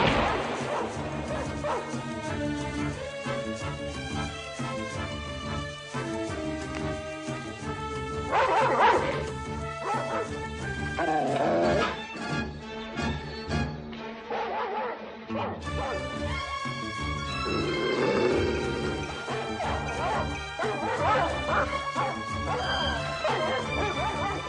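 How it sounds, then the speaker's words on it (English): A hound dog barks in a scene from the Disney animated film The Fox and the Hound, with repeated bow-wow barks and yips mixed under a busy orchestral score and sound effects, fairly loud throughout. "Chief then wakes up, sees Todd, and starts barking at him."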